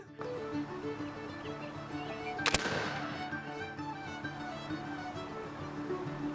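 A single test shot from a reproduction .62 caliber English trade gun, a black powder flintlock, rings out as one sharp crack midway through a quiet outdoor setting, with a faint rumble around it.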